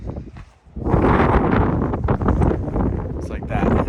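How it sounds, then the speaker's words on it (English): Strong wind buffets the microphone outdoors beside an off-grid shipping container workshop, a steady broadband roar after a brief lull, with rustling gusts that swell and ease throughout. "Let's see how windy it is."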